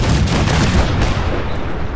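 A loud, close cannon blast rumbles from a vessel's guns in Fallout 4, a dense heavy boom that rolls on for about two seconds without any talk.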